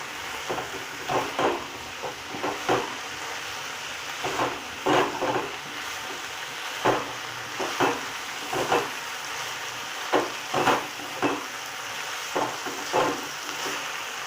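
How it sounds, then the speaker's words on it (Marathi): Chicken liver frying in a pan on a high gas flame, a soft continuous sizzle broken by regular stirring or scraping knocks, moderately close with no talk. "फास्ट गॅसवरतीच आपण यांना चांगले फ्राय करून घ्यायचे"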